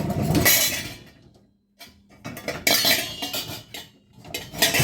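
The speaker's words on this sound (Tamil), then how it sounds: "இங்கே ஸ்பூன்ஸ் எல்லாம் வச்சுக்கிறது" Spoons and other cutlery clink and rattle against each other as they are handled in the basket of a Toshiba dishwasher, in bursts of close metallic jingling separated by a brief pause.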